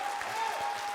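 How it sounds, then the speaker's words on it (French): Applause from a studio audience at a televised entertainment show, a short steady patter of clapping at moderate level with no voices over it. "Je vais vous demander de vous applaudir bien fort."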